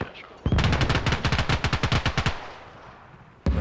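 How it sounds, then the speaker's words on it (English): M4 rifle fire in the military shooter game Arma Reforger: a rapid, loud automatic burst of about twenty evenly spaced shots lasting nearly two seconds, followed by a pause and one more sharp report. "Someone shooting with an M4 over there."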